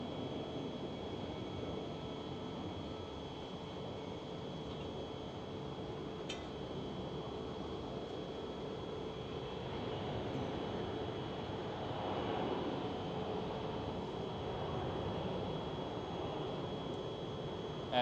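An EasyJet airliner takes off from runway 18L at Schiphol, Amsterdam, heard as a steady, broad, distant jet roar that holds for the whole stretch, with no voices.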